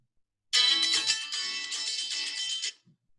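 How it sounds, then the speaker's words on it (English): A phone rings in an office, a bright electronic ringtone sounding in one continuous burst of about two seconds after a brief silence, near and fairly loud, with no talking. "Sorry about that. I got a phone call in my office."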